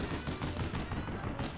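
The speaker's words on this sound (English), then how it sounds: "Oh, I'm being shot!" Dense bursts of rapid video game gunfire, like a machine gun, crackle loudly and continuously, with shots overlapping in a chaotic firefight.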